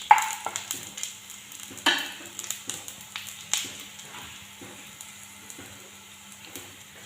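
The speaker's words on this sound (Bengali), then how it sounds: "ভাজা ভাজা হয়ে গেছে, খুব সুন্দর সুগন্ধ বেরিয়েছে।" Spices frying and being stirred for a sweet-sour mango pickle: a faint sizzle with irregular sharp taps and scrapes from a spatula against the pan.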